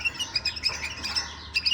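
Iraqi bulbul chicks from Khanaqin in Diyala give quick, high, squeaky calls close by, in uneven bursts that come one after another.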